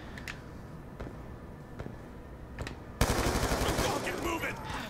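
Gunfire in Call of Duty: Black Ops 2, a few separate sharp shots at first, then a sudden loud burst of sustained automatic fire that continues to the end.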